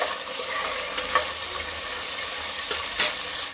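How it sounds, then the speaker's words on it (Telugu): Tempering for Telangana-style bagara rice sizzles steadily in hot oil, a constant crackling hiss with a few brief scraping clinks of a ladle against the pan, close and with no voices. "ఇటు పక్క బగారా రైస్ కోసం తాలింపు పెడుతున్నా"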